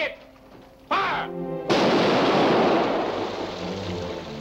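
A ship's cannon fires in a 1945 pirate film, a loud sudden boom followed by a long rumbling roar that slowly fades, after a voice gives an order.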